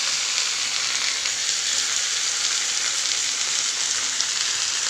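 Saag greens fry in a pan with a continuous, fairly loud crackling sizzle as they are stirred, steady throughout and heard up close without any talking.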